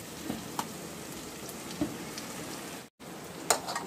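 Chicken fries in a masala spice mixture with a steady crackling sizzle, broken by a few sharper pops and spatters and one brief dropout, with no talking.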